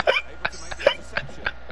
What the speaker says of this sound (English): does somebody have the hiccups?